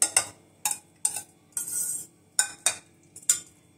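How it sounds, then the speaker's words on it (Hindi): Spices tipped into a cooking pan, heard as a string of sharp clinks and scrapes of a metal spoon against the pan, roughly eight distinct taps over a few seconds with quiet gaps between, close and fairly clear, no talking. "अब इसमें ये सारे स्पाइसेस डाल देते हैं"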